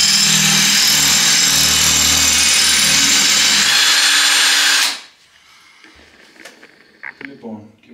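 A Lux A-BS-20 cordless impact drill driver drills at high speed for about five seconds, then stops abruptly. Quiet handling knocks and small clicks follow.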